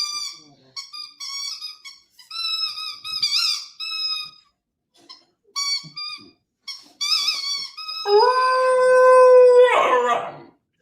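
A dog howls while playing with a toy, giving high, squeaky, whistle-like yips and wavering tones that build into a long, sustained howl at the end, close and clear.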